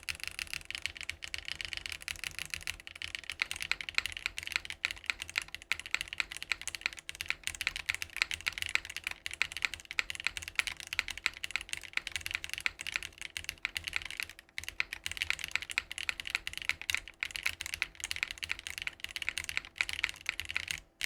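Steady, rapid typing on a mechanical computer keyboard fills the whole stretch, with dense close-up key clacks and occasional heavier spacebar thumps, no talking.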